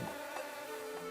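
Cartoon insects buzz in a dense, steady drone that hums evenly through the short moment with no talk over it.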